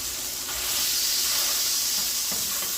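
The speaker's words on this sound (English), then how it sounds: "we got the burgers cooking" Burgers sizzle and hiss steadily on a hot cooking surface, a close, continuous frying sound with no talking.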